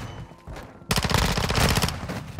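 A P90 submachine gun fires in a first-person shooter game, a dense rapid burst of loud automatic shots that starts abruptly and sustains to the end.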